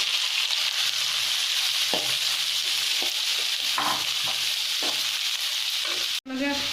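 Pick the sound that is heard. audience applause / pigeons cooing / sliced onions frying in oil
sliced onions frying in oil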